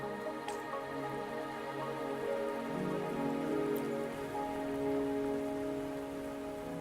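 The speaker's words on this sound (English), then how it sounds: "Are you trapped here by the rain?" Steady rain patters across surfaces in a Wuthering Waves game scene, dense and continuous, with a few sharper drops and a faint low rumble beneath, no voices.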